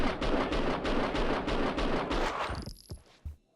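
Rapid gunfire in Max Payne 2, a loud, fast string of evenly spaced shots rattling for over two seconds, then a couple of isolated bangs with a high ringing tone as it dies away.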